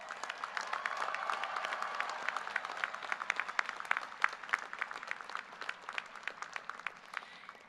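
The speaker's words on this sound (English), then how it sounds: "let's also cheer your family and friends with a big round of applause" A university commencement crowd at CSUN applauds for family and friends, a broad, fairly distant round of clapping with sharp individual claps standing out, steady at first and thinning slightly toward the end.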